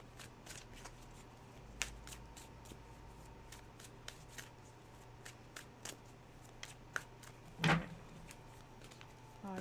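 Oracle cards being shuffled by hand, a faint run of soft papery riffles and light taps with one louder flurry near the end, quiet and close with no talking.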